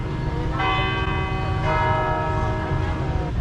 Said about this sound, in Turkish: Oo çanlar çalıyor.